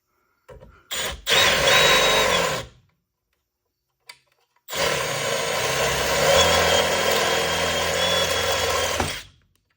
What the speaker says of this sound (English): Just so I don't drill into